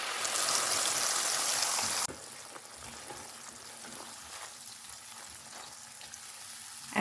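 Ginger garlic paste drops into hot oil with jeera and hing in a pan and fries with a loud, bright sizzle that suddenly drops to a steadier, quieter crackle and hiss, with light stirring.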